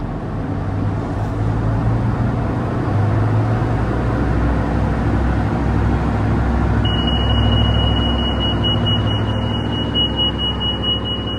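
A steady electronic alarm beeps from the upgraded Glendinning control system on a Viking yacht, warning of no transmission pressure while in gear. The high tone starts partway through and holds to the end over a loud, constant engine drone.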